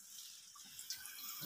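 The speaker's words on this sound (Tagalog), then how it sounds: "Ngayon itong tubig." Water running steadily inside a deep cave in Barangay Baay, Labo, Camarines Norte, a soft continuous trickling and splashing with no voices over it.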